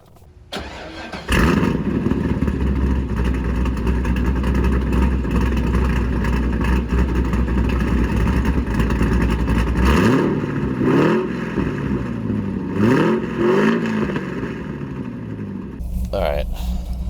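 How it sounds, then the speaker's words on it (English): A Chevrolet C5 Corvette engine cranks and catches, then settles into a loud, close, steady idle broken by several sharp revs toward the end. The exhaust note is deep. "I know you're excited to hear me start the car up and drive it"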